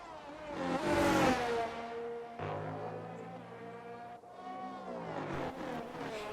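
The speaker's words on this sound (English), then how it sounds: "As he reaches the Grand Plaza, he once again goes full throttle," A race car at Circuit of the Americas accelerates at full throttle, its engine pitch climbing in rising sweeps broken by gear shifts. The sound stays fairly faint and steady.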